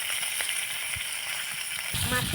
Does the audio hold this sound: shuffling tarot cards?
no